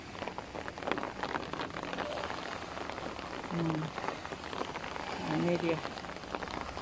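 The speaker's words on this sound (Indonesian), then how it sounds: "Susahnya mau ambil hujan." Steady rain pattering down on Mantanani Island, a dense, even hiss of drops on surfaces close by, with a voice speaking briefly over it.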